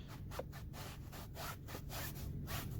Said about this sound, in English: So we're going to take our microfiber, which is just a regular microfiber towel. I'm going to wipe off as much